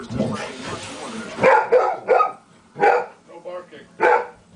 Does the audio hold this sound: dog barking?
yes